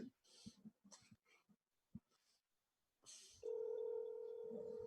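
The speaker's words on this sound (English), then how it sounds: "the phone that rings, stop, and then it rings again" A steady, unbroken telephone tone switches on after a few seconds of scattered voices and quiet, then holds at an even level to the end.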